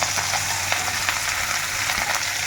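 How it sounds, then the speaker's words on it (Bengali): Chopped onion and green chillies frying in hot oil with dried chilli, cinnamon and whole cumin, a loud dense steady sizzle with occasional crackles and stirring sounds. "এখন এর মধ্যে দিয়ে দেব এই যে কুচিয়ে রাখা পেঁয়াজ আর কাঁচা লঙ্কা"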